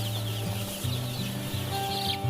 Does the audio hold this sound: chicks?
yes